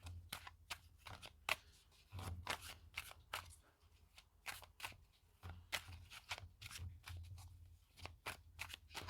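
Oracle cards shuffled by hand in a quiet room, giving a steady run of soft, papery riffles and flicking bursts close by, with no voices.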